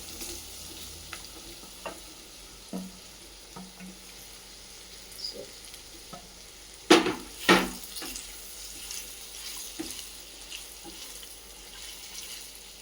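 Paneer dropped into a pan with sliced green chillies and curry leaves over a low gas flame, giving a faint sizzle with scattered clicks and two louder clattering bursts midway as pieces land and are moved.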